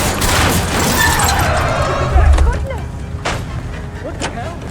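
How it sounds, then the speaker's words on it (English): Gunshots fired at a fleeing car's tires in the video game LA Noire, a few sharp cracks amid engine roar and a deep boom, with voices talking over the action. "I'll try to shoot out his tires"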